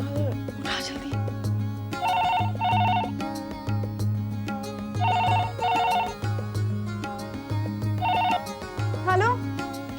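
A telephone rings with a repeated electronic bell in short double bursts, loud and close, against steady background music in a Hindi television drama.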